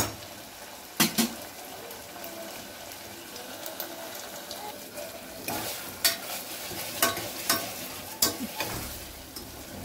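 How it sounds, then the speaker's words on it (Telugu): A Telugu-style tempering (talimpu) frying in a pan for chamadumpa (taro root) pulusu, with a steady sizzle under repeated sharp scrapes and clinks of a spoon stirring against the pan, close and fairly quiet, no talking. "తాలింపుల మటుకు బాగా వేగాలండి."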